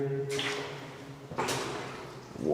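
A huge heavy door in an underground bunker grinds and scrapes twice, each long sliding rasp fading slowly into an echoey space, with a faint creak at the end.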